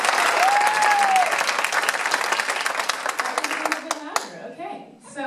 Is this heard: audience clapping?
yes